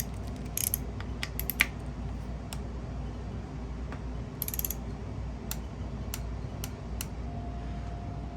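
A torque wrench ratchets on a cam chain idler wheel bolt of an XR70 engine, faint quick clicks in short bursts over a low steady background hum.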